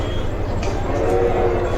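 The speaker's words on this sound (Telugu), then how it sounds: "చూడండి, అలాగ ఫుడ్ తీసుకొని వస్తుంది ట్రైన్." A miniature food-delivery train runs along its track inside a train-themed restaurant in Vijayawada, giving a steady close rumble with a faint whistle-like tone over it.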